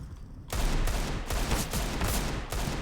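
Rapid automatic gunfire from the video game CS:GO rattles in a dense, continuous burst of close shots after a brief quiet opening, loud and without speech.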